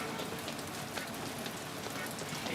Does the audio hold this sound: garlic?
no